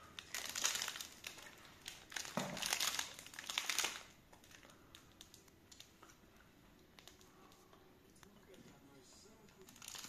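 A rhesus macaque crinkles and tears open a New Year gift wrapper, with loud bursts of crackling plastic in the first few seconds, then quieter, sparse rustling. A person talks softly nearby.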